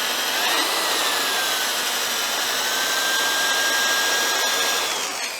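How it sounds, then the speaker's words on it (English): A 0 to 1400 RPM variable-speed drill runs at about half speed while sanding a wooden platter on a lathe, a loud, steady, close whine that holds its pitch with a slight shift partway through, and no talk. "this drill is a 0 to 1400 RPM drill"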